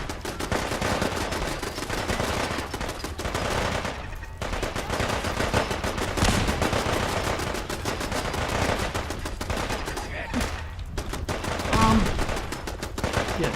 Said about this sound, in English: They seem to be doing a lot of shooting on their own.